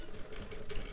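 A sewing machine stitching a katori blouse, giving a brief, quiet, steady mechanical whir and needle clatter lasting about a second, with no voices.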